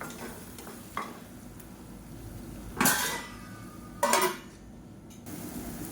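Onion thokku being stirred in a pot on the stove, with a soft steady sizzle underneath, a few scraping stirs and two louder clattering bursts as the lid is handled and set back on.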